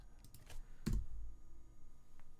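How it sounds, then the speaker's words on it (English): A few quick taps on a computer keyboard, close and fairly faint, with one louder keystroke standing out among softer clicks in a quiet room. "I tapped right on the keyboard"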